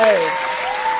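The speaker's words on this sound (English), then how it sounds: "And clap it up one more game" Applause rises from an audience greeting a guest on a talk program, steady and full for about a second while a voice still trails off over the start.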